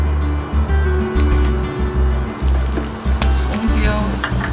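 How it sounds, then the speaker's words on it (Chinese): Salad oil poured into a hot pan, sizzling and crackling steadily, with a low rumbling hum behind it and no voices heard. "倒点色拉油"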